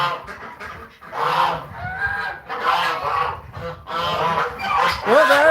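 Geese honking on a South Dakota farm, loud and close, in several repeated bursts of harsh nasal honks with brief pauses between.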